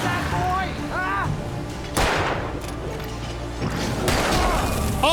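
Gunfire and heavy impacts in the video game Alan Wake, with several loud booming shots spread over a few seconds. A player talks excitedly over the game sounds throughout.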